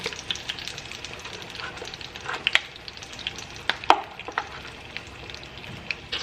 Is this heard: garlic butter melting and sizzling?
yes